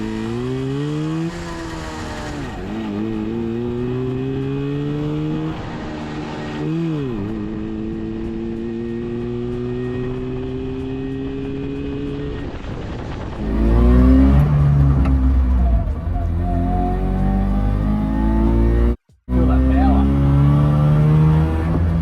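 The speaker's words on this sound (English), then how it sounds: "after a while we got it running beautifully, so I could take it for a drive" Rebuilt Daihatsu Fellow engine on a test drive: a loud, steady revving motor that climbs and drops through gear changes, growing louder and rougher near the end with a brief cutout.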